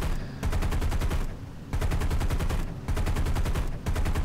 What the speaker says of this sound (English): I'm constantly shooting low here.